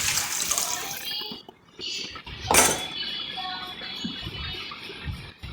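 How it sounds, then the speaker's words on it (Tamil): Water from a rinsed mixer jar splashes and pours into a metal pot for fish curry, with clinks of the jar against cookware and a brief louder gush midway. "மிக்சி ஜாரை கழுவி நமக்கு எவ்வளவு குழம்பு வேணுமோ தண்ணி வேணுமோ அவ்வளோ அளவு தண்ணியை நம்ம ஊற்றிக்கிடலாம்"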